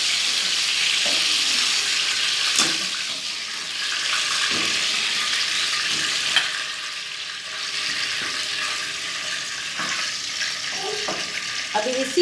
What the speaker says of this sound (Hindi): कोफ्ते फ्राई हो गए हैं, मैंने आँच को कम कर दिया है